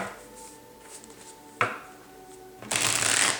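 Tarot cards are shuffled in a few quick riffling bursts, close and fairly quiet, ending in a louder, longer riffle.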